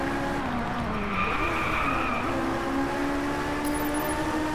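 Ferrari race car in the Driveclub video game, engine droning continuously with tires skidding and squealing through a corner, loud and steady for the whole stretch.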